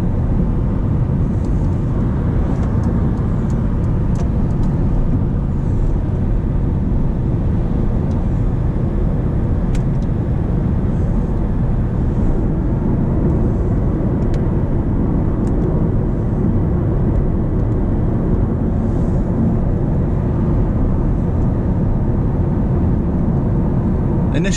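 Inside a Mercedes A-Class on 17-inch wheels cruising on a motorway, a constant low roar of road and wind noise fills the cabin, steady and unbroken throughout.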